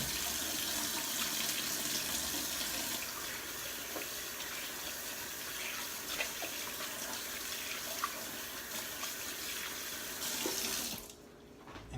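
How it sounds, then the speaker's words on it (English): Hot water runs steadily from a kitchen tap while hands are washed with soap, a constant close splashing that stops abruptly near the end. "I'm gonna wash my hands with some hot water and soap"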